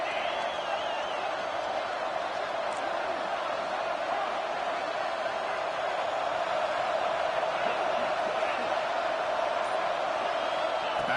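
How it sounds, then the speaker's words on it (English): Stadium crowd at a college football game between Michigan and Carolina keeps up a steady, distant roar of cheering throughout, with commentators talking over it. "Listen to the crowd energy here in the early going."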